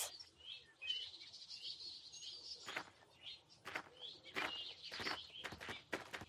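Birds chirp in a Daniel Tiger children's game, with quiet, high tweets and calls repeating in short bursts over faint background ambience and several brief sharper chirps toward the end.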